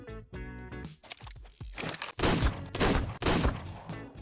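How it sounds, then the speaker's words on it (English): Sniper rifle shots at dinosaurs in the video game Ark Survival Ascended, a few clicks and mechanical rattles leading into several loud, heavy blasts in close succession near the end. "we decided to do some early morning tame sniping"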